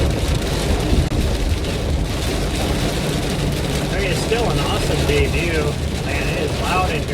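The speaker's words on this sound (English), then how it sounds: "it is loud in here with that rain." Heavy rain heard from inside a building, a dense, loud, continuous roar drumming on the roof and walls, with faint scattered higher sounds over it and no clear talk.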